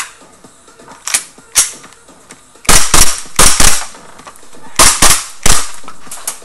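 An Echo1 Timberwolf airsoft pistol fitted with a mock suppressor fires a series of sharp, close snapping shots, some single and some in quick pairs, with quiet handling clicks in between.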